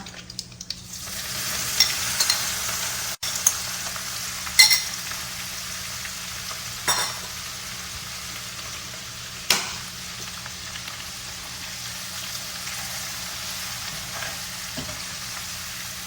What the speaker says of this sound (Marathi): आता आपल्या ह्या मिरच्या आणि कढीपत्ता पण चांगला कुरकुरीत झालाय फोडणीत